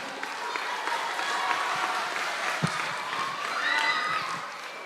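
A church gathering at an Easter Sunday school service claps together, a soft, steady patter of hands at moderate distance with a few sharper claps and a quiet voice or two in the background.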